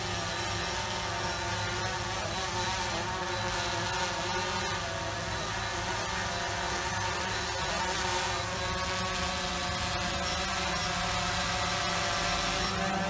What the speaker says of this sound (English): And now we're going to bring the drone down.